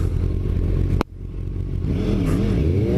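A 2017 Yamaha FZ-10 motorcycle engine runs loud and close, with a sharp clunk as the throttle changes, then the revs climb steadily in a rising whine.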